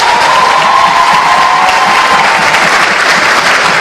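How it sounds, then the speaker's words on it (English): Loud, dense applause from an audience at the official opening of a junior parliament session, steady and sustained throughout with a faint crowd murmur beneath. "can we give them a round of applause?"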